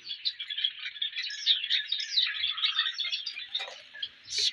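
Java sparrows in a colony aviary give a continuous stream of thin, high chirps and tweets, close and overlapping, with a few brief rustles and a louder burst of calls at the end.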